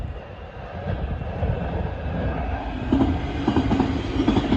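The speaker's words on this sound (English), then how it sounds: "Here comes the Class 700." A Class 700 train passes near Finchley Road, a close, steady rumble of wheels and motors that swells with faint clickety-clack toward the end, with no voices.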